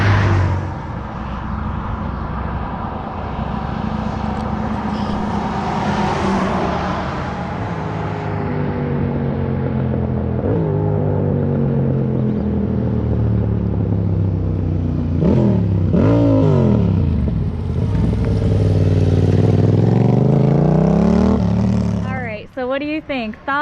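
Motorcycle with a baffle fitted in its loud exhaust, revving repeatedly in rising and falling sweeps, loud and close, while people talk over and between the revs.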